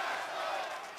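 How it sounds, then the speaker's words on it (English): An arena crowd chants and roars at a wrestling event in the Alamo Dome, a dense, steady wall of voices heard from within the venue. "As you hear the great crowd here in the Alamo Dome telling Garrett what they think"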